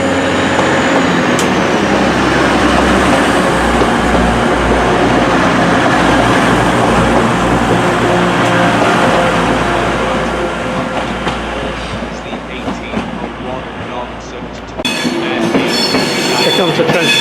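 A TransPennine Express Class 185 diesel unit, bound for Newcastle, rolls into a Manchester station platform with a loud, continuous rumble and rattle of wheels. The noise eases as it slows, and a high squeal sounds near the end.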